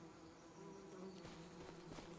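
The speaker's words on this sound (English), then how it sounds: "the grass is full of beautiful flowers that feed our" Bees buzzing over flowering meadow grass in a logging game on a sunny June day, a steady low insect drone that carries evenly through the whole stretch at moderate level.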